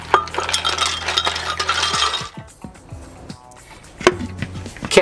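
Two cups of ice cubes clink and rattle loudly as they are poured, followed by a few scattered knocks and clatters.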